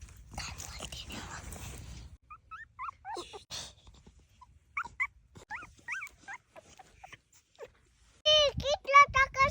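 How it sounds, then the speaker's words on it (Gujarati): A female dog whimpers in a village yard, giving short high whines in a quick run before loud speech, with a brighter burst of yelps near the end. "જો આવી કૂતરી"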